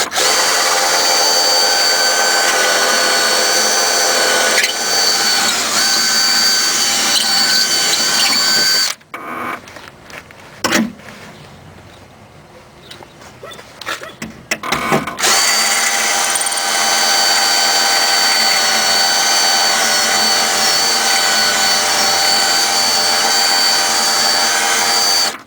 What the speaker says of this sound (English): we're going to drill this out